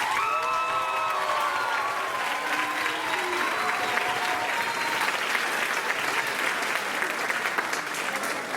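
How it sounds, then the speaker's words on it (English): Steady audience applause fills a spring concert hall, dense many-handed clapping sustained for several seconds, with a few faint voices and tones briefly over the start. "Please give a huge round of applause to Sherry Killebrew"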